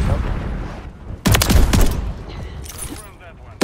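Shotgun gunfire in the video game Modern Warfare 3, several sharp blasts in a quick cluster, loud and close, with a later burst at the end.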